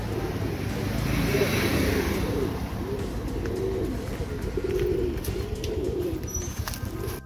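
Madras pigeons in a coop give soft, repeated rolling coos close by, layered over steady low background noise and faint chirps.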